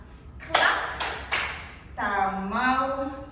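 Three sharp hand claps from a Tahitian ori tahiti dance routine ring out close and evenly spaced, followed by a person talking.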